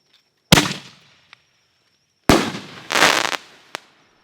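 Fireworks cake shells bursting on July 4th, a sharp bang followed by a pause, then a louder cluster of crackling blasts with a final small pop, close and loud, no talking.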